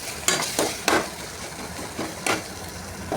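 A soy sauce and ketchup masala being sautéed in a pan: a constant sizzle broken by several scraping stirs of a spatula against the pan, close and fairly loud.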